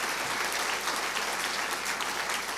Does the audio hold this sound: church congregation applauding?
yes